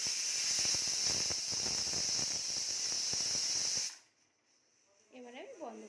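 A pressure cooker whistle vents steam while rajma boils, a loud steady hiss for about four seconds that cuts off abruptly, followed by quiet and a brief voice.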